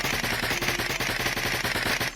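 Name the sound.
automatic gunfire from FPS weapon in Unreal Engine 5 game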